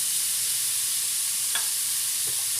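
Boiled jackfruit pieces stirred in a hot cooking pan, giving a steady sizzling hiss broken by two brief scrapes of the stirring utensil.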